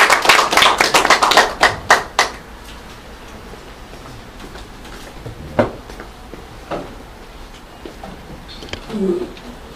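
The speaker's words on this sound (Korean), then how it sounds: "큰 박수 부탁드리겠습니다." Audience applause at a district office public meeting on direct democracy, loud clapping for about two seconds, then fading into scattered claps and taps with some background chatter.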